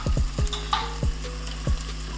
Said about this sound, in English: I'm gonna let my tomato paste cook with my onions and my garlic